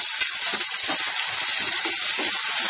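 Potato and onion frying in oil in a pan give a steady, loud sizzle and hiss that runs without a break from start to finish.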